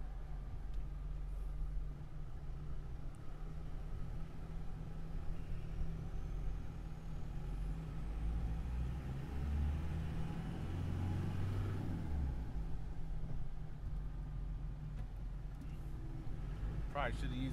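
A Land Rover Defender 110 diesel driving, its low steady engine drone and road rumble continuing throughout, with a brief rise around a gear change; someone talks faintly over it.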